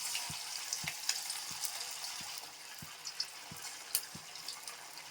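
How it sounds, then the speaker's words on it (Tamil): Rava masala bonda frying in a wide pan of hot oil, a soft continuous sizzle and bubbling with faint regular ticking or tapping every half second or so underneath. "ஸ்டவ்ல எண்ணெய் காஞ்சிருச்சு நம்ம பொறிச்சு எடுத்துக்கலாம்"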